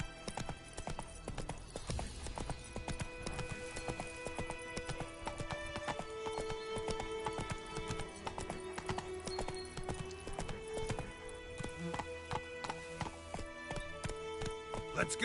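Horse hooves clip-clop steadily in The Witcher video game, a continuous close rhythm under layered game music, with a whinny and brief voice moments.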